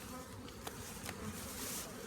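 Honey bees buzz steadily at an open hive during a June swarm-prevention inspection, a dense continuous drone close by with no talk.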